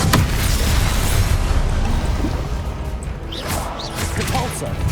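Confringo fire-blast spell from Hogwarts Legacy going off as a loud, dense booming crash with a sharp opening hit, sustained rumbling blast debris, and a game voice shouting spell names amid the chaos.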